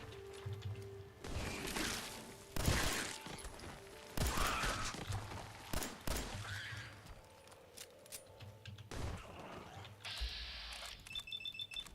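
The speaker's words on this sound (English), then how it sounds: "Oh, bad shooting." Shots fired in Fallout 4 crack out in several sharp, uneven bursts over a busy game soundscape, some loud and close with gaps between volleys.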